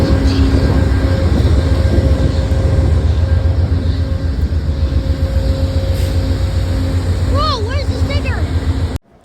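An Amtrak train pulling out of a station in Lakeland, a loud continuous low rumble and engine drone throughout, with a brief warbling horn-like tone near the end, while a person talks over it.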